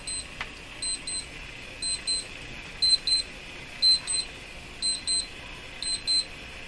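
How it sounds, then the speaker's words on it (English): A digital alarm clock beeps in steady rapid bursts of three or four high electronic tones, repeating about once a second over quiet room noise, moderately close. "there goes my alarm that I can't turn off"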